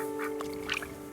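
A duck quack plays as a stream alert sound, a short pair of nasal quacks over a steady electronic hum, with no talk.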